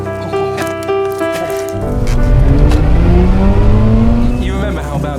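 A Mazda RX-8's rotary engine revs hard, pitch climbing sharply through rising gears, loud and close, with a road-driving roar underneath.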